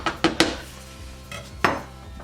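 Fork tines tapping and pricking into tart pastry dough for a lemon meringue tart, giving a few sharp, close clicks against the pan early on, then a quieter pause and one more distinct tap.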